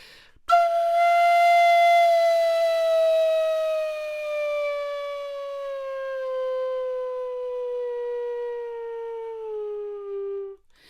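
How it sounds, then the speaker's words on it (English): A single sustained flute tone slowly bends downward in pitch over about ten seconds, clear and alone. "these downward bending glissandi, and these sound really beautiful"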